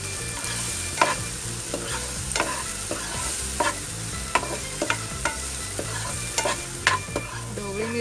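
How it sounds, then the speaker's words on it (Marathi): Tomato and masala frying in a pan while being stirred, a steady close sizzle with repeated sharp scrapes of the spoon at an irregular rhythm, alone with no talk, for a Marathi stuffed capsicum dish. "चांगला गुलाबी असं भाजून घ्यायचं. टोमॅटो पण असं पूर्ण नरम झाला पाहिजे."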